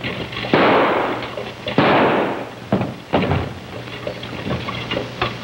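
Pistol shots fired in a 1950 western TV episode, several sharp loud cracks at irregular intervals, each followed by a short ringing decay, with a low steady hum underneath.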